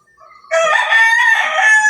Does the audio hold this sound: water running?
no